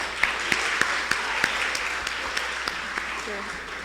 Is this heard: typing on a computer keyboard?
no